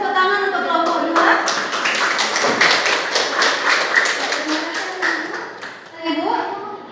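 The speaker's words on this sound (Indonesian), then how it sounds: "Beri tepuk tangan untuk kelompok 2." A school class claps for a presenting group, with a dense burst of hand clapping and tapping starting after a moment, swelling and fading over several seconds, with voices of a teacher and children around it.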